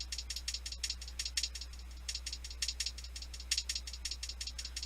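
Soloed hi-hats in a Bitwig Studio beat with quantize variation, played as a steady stream of crisp, ticking hits that shift slightly in loudness, quiet and dry, with a low hum underneath and no talking.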